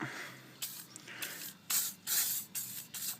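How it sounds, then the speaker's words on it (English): Several short bursts of aerosol spray hiss in close succession onto a push mower's blade, each a sharp broadband spritz separated by brief pauses. "Spray the blade."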